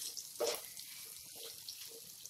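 Spices roasting in a pan over a medium flame for mango launji chutney, a soft, quiet sizzle with a few faint scraping stirs and no voices.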